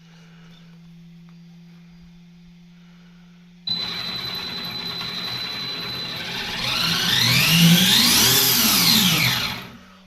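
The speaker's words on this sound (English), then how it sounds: "I always test the steering first." A brushless 1/10 scale FTX Rokatan RC car, 3S LiPo powered, whirs as its steering and motor are tested: quiet hum at first, then a sudden louder electric whine that rises and sweeps in pitch before cutting off.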